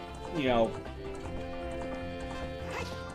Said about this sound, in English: ride around the horse